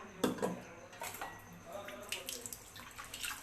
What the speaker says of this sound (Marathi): चला आता याला साफ करून घेऊया आणि मग ते एकदम चकाचक झालेला आहे डबा